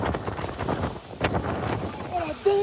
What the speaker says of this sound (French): De violentes rafales de vent, accompagnées de trompes d'eau, s'abattent sur le centre-ville.